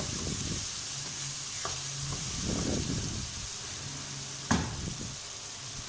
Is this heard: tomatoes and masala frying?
yes